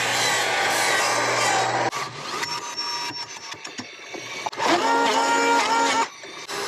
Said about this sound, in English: I'm chiseling this beam because this is the line.